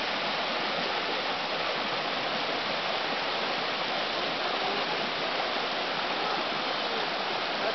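Creek water rushes steadily past near a house, a constant, even wash of flowing water, close and unbroken, with no voices over it.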